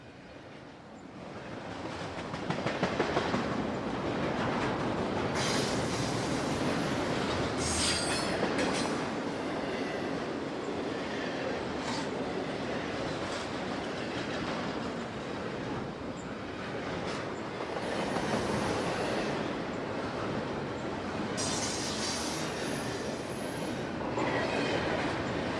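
A CPKC freight train rolls steadily through the northern end of the Shreveport rail terminal near Oil City, a continuous loud rumble of railcars with clickety-clack wheel beats and occasional wheel squeal throughout.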